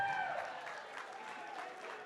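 An audience at a startup showcase event cheers and applauds, a dense wash of clapping and shouts that stays fairly distant and steady for a couple of seconds.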